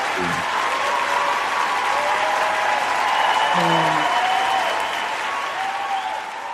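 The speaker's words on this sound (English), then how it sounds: "give you a round of applause on that." Steady applause rolls on for several seconds during a virtual radio interview, broad and sustained and fading slightly at the end, with a little voice mixed in early on.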